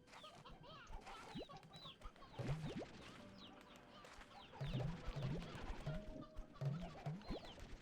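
Chickens cluck in the video game Slime Rancher 2, with short, faint clucks scattered over a quiet bed of game ambience and some other bird-like chirps.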